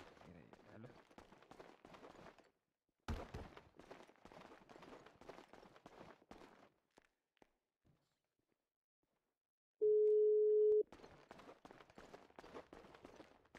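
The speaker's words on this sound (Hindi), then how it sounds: "फोन बज रहा है किसी का" A phone rings in a GTA V roleplay game as a single loud, steady electronic tone lasting about a second, with voices talking before and after it.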